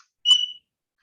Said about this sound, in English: I have a fire alarm or a bird pretending to be a fire alarm right now.